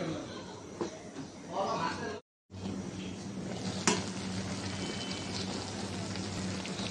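Taro and hilsa fish curry bubbles in a covered pot, giving a soft continuous simmering hiss broken by a brief pause and a clink of the lid or utensil.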